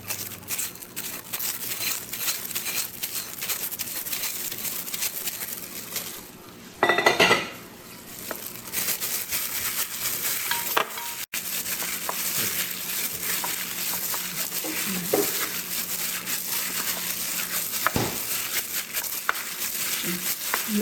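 Shrimp being stirred in a bowl with ground black pepper, salt and seasoning for a marinade, steady close scraping and clinking of a utensil against the dish, with a brief louder clatter partway through.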